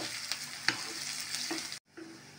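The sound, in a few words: onions frying in oil until browned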